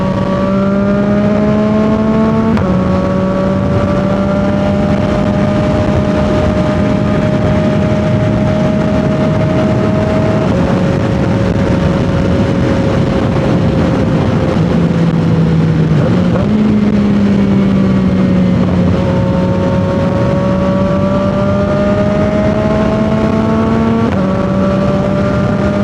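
Riding on a 2025 CFMOTO 675 SS motorcycle fitted with a new full exhaust, the engine droning loud and steady through gear changes, pitch rising and dropping with each shift, no talk.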